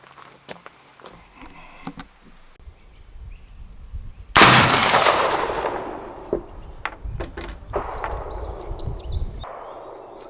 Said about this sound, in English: All right, third shot with the grease groove cylindrical bullets.